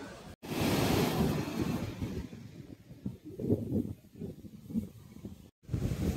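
Sea waves surging and washing ashore at Digha beach, a broad roaring wash of surf with gusty wind buffeting the microphone, loud and continuous with a couple of brief dropouts.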